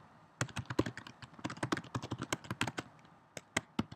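Command being typed on a computer keyboard, a close, quick run of sharp key taps in uneven bursts, with a brief pause near the end before a few final keystrokes.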